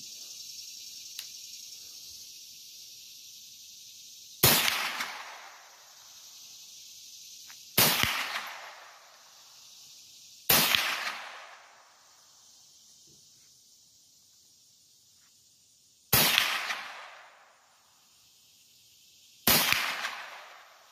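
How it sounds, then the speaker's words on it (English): Five sharp rifle gunshots ring out at irregular intervals at an outdoor shooting range with targets at 50 yards, each a loud crack followed by a short decaying echo over a quiet background. "And this is the first batch, 7 rounds, 21 shots at a 50-yard distance."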